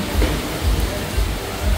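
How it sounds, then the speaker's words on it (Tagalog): Heavy rain pours steadily in Boracay, a dense, loud hiss with low rumbling, close by and continuous throughout. "Rinig nyo guys, lakas ng ulan."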